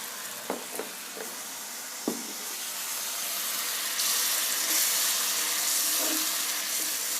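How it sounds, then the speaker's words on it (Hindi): Water poured into spiced gravy cooking in a pan for boondi sabzi, a few sharp sizzles and clinks giving way to a steady hissing rush of pouring liquid. "आप जितना ग्रेवी रखना चाहते हैं उतना इसमें पानी डाल दें।"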